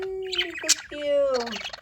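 Up close, a pet budgie parakeet warbles in gliding, tonal chirps broken by a short sharp note, then trails into a busier chattering twitter.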